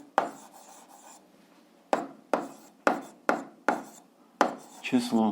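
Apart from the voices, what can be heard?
chalk or pen writing on a board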